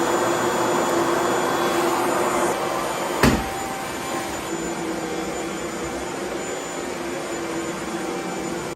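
A Shark HZ2002 Vertex stick vacuum runs on a hardwood floor with a steady, loud whirring hum and airy hiss throughout, broken once by a sharp knock about a third of the way in.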